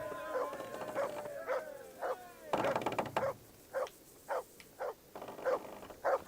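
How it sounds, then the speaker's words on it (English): A dog barks repeatedly in the medieval role-playing game Kingdom Come: Deliverance, a series of sharp, fairly loud barks in an uneven rhythm with some whimpering tones, and no talk. "For the love of God, stop barking."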